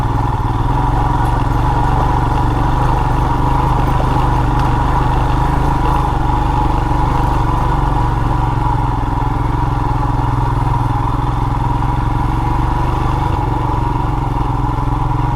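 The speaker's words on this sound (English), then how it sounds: "the Himalayan will just donk its way up in first gear" A Royal Enfield Himalayan motorcycle climbs a dirt trail in first gear, its single-cylinder engine thumping loud and constant at low revs for the whole stretch, close and with no voices.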